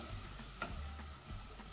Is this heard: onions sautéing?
yes